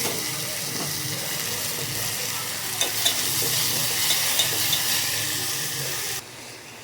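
Chopped vegetables and tomato sizzle in a hot pan while being stirred, with a continuous frying hiss, soft scraping and a few light clinks near the end.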